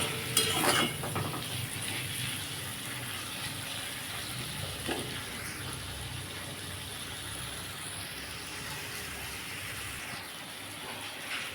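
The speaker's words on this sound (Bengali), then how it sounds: "এটাকে ভালো করে কষতে হবে নাহলে মশলা গন্ধ বেরোবে" Spice paste for a rohu fish curry with potato and cauliflower sizzles in a pan as it is sautéed, with a steady frying hiss and scraping stirring strokes, close and clear, a louder burst right at the start.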